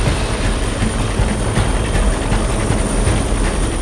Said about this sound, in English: The helicopter will hover above the Serena and her team will conduct the hoist.